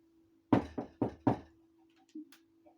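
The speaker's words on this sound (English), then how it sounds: "she hears giant banging on the door" Four heavy knocks bang on a door in quick succession, loud and close, used as a story sound effect and followed by a faint softer thump.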